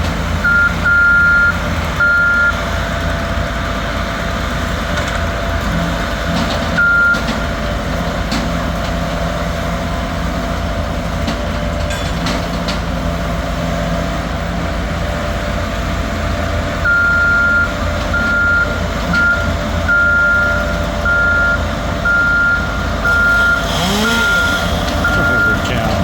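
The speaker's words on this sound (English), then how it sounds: "with all that heavy equipment driving over here" Heavy equipment reverses with steady, evenly spaced backup beeps, first in a short run and then again toward the end, over a constant loud engine rumble at a sewer cleanout site.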